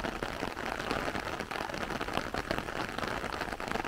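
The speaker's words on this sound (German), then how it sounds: "Wir haben Regen und es hat heute Nacht so um 3:30 etwa angefangen, doch stärker zu regnen." Steady rain falls at Barranco de Maspalomas on Gran Canaria, a dense, continuous patter on surfaces that stays even and fairly close throughout, with no voices.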